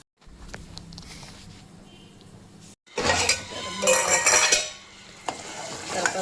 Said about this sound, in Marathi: आणि याला आता मस्त परतून घ्यायचं जोपर्यंत तेल सुटत नाही तोपर्यंत शिजू द्यायचं